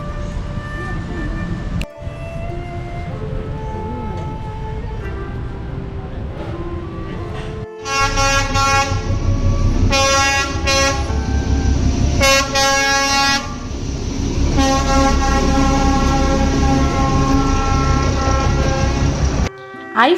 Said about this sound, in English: watching the train zoom past